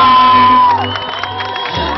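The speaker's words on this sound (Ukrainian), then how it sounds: "Підтримаємо оплесками. Активніше!" A summer-camp crowd cheering and whooping for a squad being introduced, a loud continuous mass of voices with a whistle-like tone early on, sustained throughout.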